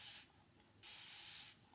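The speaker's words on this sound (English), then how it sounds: "I'm just going to spray water in it like this" Two hissing bursts of a spray bottle misting water, a short one then a longer one, close and clear in a quiet room.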